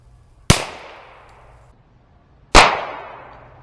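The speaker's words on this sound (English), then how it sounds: "we're going to be shooting this first shot at 8 feet, which will put the end of the gun a little over 6 away from the foil" Two sharp, loud reports from a Ruger Wrangler revolver firing CCI shotshells at foil from about eight feet, about two seconds apart, each ringing out into a long fading tail, with no voices.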